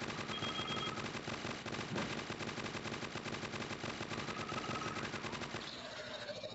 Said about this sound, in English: Anyone else notice my gun just firing like hell? I've hit that point of rapid fire